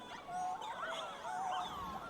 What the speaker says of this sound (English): Every time that my doggo Daisy barks, she always surprises me